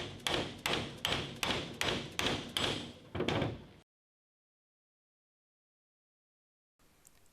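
A Yanmar tractor's PTO seal being tapped into place with a hammer: about seven evenly spaced, sharp knocks in a steady rhythm, close and clear, followed by silence and a faint trailing noise.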